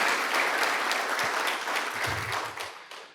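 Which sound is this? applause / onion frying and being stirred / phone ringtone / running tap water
applause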